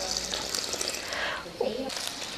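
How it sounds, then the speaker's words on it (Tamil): Water trickles and splashes as it is poured little by little into rice flour dough for Diwali mixer snacks, a soft running pour with faint background noise. "தண்ணி கொஞ்சம் கொஞ்சமாக ஊற்றி ஓமப்படி பக்குவத்துக்கு பிசைஞ்சு பிசைக்கணும்"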